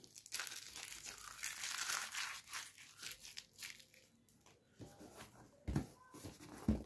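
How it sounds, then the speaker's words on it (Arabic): A cardboard carton of cheese-flavoured Joker Karate snacks is opened close up: bursts of crinkling, tearing and crushing cardboard and wrapping, with pauses and a few sharper handling knocks toward the end. "نفتح الكرتونة دلوقتي"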